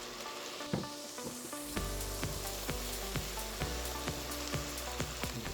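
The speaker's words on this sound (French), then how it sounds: "J'ajoute ensuite le plantain et je mélange le tout." Wild plantain added to a hot cooking pan and stirred sizzles steadily, with crackling frying and sharp scraping clicks from the stirring utensil, close and continuous, with no talk.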